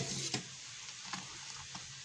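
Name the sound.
whisking boiled milk in a pot for yogurt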